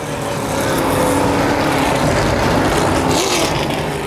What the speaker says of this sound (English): They build speed coming down the backstretch.